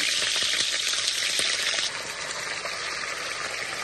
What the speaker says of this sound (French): Dans de l'huile préchauffée, on met juste les filets dans de l'huile pour briller.